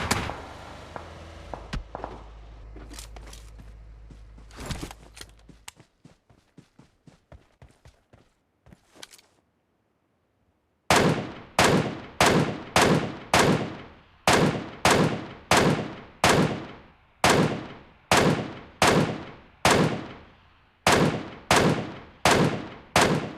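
An MK14 rifle fires in the PUBG video game: first a string of quieter single shots, then after a short silence a loud, evenly paced series of about twenty sharp close shots.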